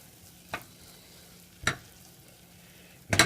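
A blonde roux of flour being stirred in a pan for Alfredo sauce, with three separate scraping strokes of the spoon against the pan over a faint, quiet background.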